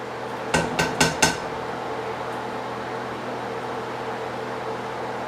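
Lightly caramelized onions tipped from a hot skillet into a pot for homemade deer soup, giving four quick clattering metallic knocks followed by a steady kitchen hum.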